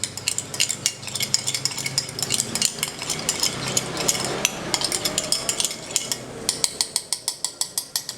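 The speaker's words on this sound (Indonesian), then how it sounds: "Santannya kita kocok dulu." Coconut milk being whisked in a bowl before it goes into a Batak mie gomak noodle soup, rapid rhythmic clinking and stirring strokes that grow sharper and more evenly spaced toward the end.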